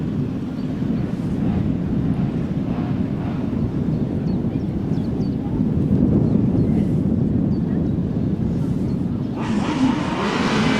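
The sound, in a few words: grasstrack racing sidecars revving on the start line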